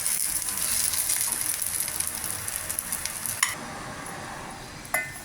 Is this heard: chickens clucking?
no